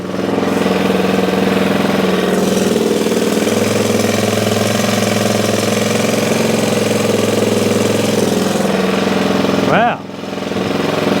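A Honda XR400 motorcycle engine, just started after many kicks, runs loudly and steadily at idle, with a brief voice breaking in near the end.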